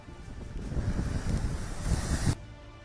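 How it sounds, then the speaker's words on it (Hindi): Stormy, high sea waves roll along the Mumbai coast during heavy monsoon rain, a dense continuous roar and rumble with gusting wind noise that cuts off abruptly near the end. "वहीं अगर बात की जाए समंदर की, तो समंदर में तेज और तूफानी लहरें इस वक्त उठ"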